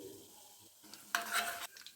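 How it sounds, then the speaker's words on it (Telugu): Tempering seeds and cumin fry in hot oil, starting as a quiet crackle and rising into a brief burst of loud sizzling with some stirring. "తాలింపు వేగిపోయింది."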